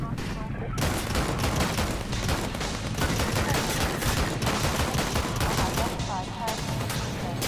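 Rapid, dense gunfire from the video game Half-Life 2 fires almost without pause, loud and close, with overlapping bursts filling the whole stretch; voices shout over it.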